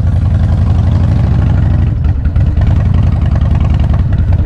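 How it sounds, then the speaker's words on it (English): Harley-Davidson Softail Springer with an 88 motor, larger intake and Vance & Hines shorty exhaust, idling close up with a loud, deep, lumpy rumble and a brief blip of throttle midway. "This one sounds great. Vans & Hines shorties on it."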